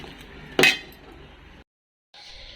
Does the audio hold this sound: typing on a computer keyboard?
no